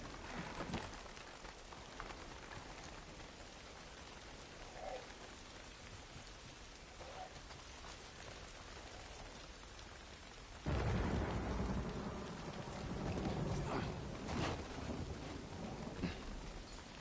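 Steady rain pouring with rumbling thunder, growing suddenly louder and heavier partway through as a close thunderclap rolls in, with no talking.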